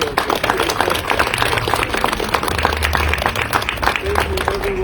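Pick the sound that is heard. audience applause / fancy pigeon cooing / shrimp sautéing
audience applause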